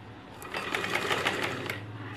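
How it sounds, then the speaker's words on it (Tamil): A sewing machine stitches the edge of a saree in a steady, continuous mechanical whir with rapid needle ticking, close up and unbroken for the whole stretch, with no voices. "இந்த எட்ஜு தைக்கும் போது மட்டும் இங்கே வரைக்கும் தைச்சிட்டு"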